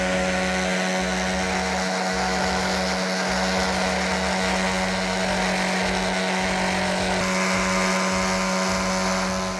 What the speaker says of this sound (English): I'll continue sanding the epoxy part up to 3000 grit and then polish it